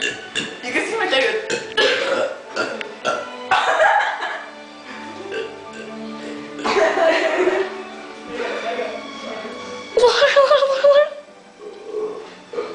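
Loud, drawn-out burps from contestants in a burping contest, several long gurgling belches in a row with breaks between them, mixed with voices and chatter.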